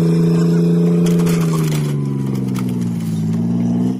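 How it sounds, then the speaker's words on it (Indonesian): A toy steel tank runs close by with a steady buzzing motor whine that holds for about four seconds, dips slightly in pitch midway, then cuts off abruptly at the end. "Wah, yang ini tank baja."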